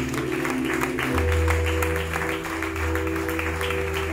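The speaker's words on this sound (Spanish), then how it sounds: "Dele un aplauso a Cristo, iglesia" A church congregation claps for Christ during a sermon, with lively applause rolling over sustained keyboard or organ chords and a deep bass note.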